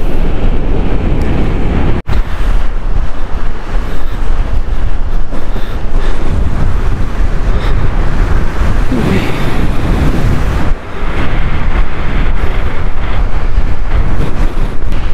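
Strong wind batters the microphone by the sea, a loud, unbroken roar with surf and rumble mixed in.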